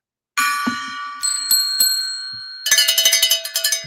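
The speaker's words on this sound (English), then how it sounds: "We're going to ring the gong, hit the magic bell, the silver bell, and ring the cowbell." A gong, a silver bell and a cowbell struck in celebration, a sustained ringing tone followed by bright single dings, then a rapid run of clanking cowbell strikes, all loud and close with no talk.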